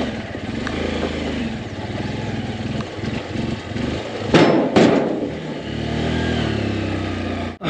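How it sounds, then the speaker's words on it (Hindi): A motorcycle engine labors steadily in first gear while climbing a steep, rocky mountain road, with sharp knocks and rattles from the stones midway and a rider's voice briefly audible. "भाई पीछे ना बड़ी खतरनाक चढ़ाई थी, बाइक पहले गियर में ही आई भाई।"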